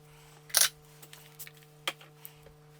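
A short, quiet hiss of makeup setting spray, one brief burst near the start followed by a fainter second puff, over a low steady electrical hum.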